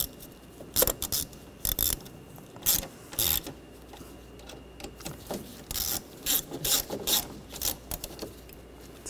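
A ratchet clicks in short bursts as screws are tightened on a Ford Escape, quiet and close, with gaps of light handling noise in between.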